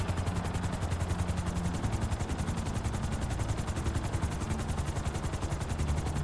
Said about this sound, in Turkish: Abi Michael'ın evine helikopterle iniyorum